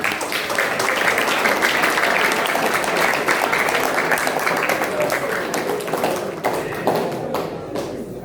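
Sustained applause from an audience at a book discussion evening, dense steady clapping that fills the whole stretch and thins slightly toward the end, with a voice talking underneath.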